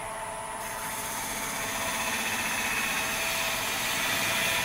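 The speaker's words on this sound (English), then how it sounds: "So that's a basic cut with a spindle gouge" A spindle gouge cuts into spinning wood on a lathe during pen turning, a continuous close hiss over a low motor hum that builds slightly in loudness, with no talking.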